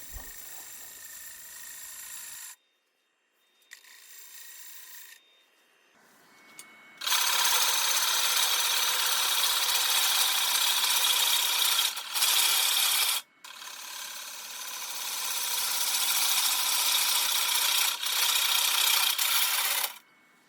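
A wood lathe spins a burl while a sharpened gouge takes slow cuts, making a loud, close, sustained hissing scrape that starts and stops a few times, with no voices.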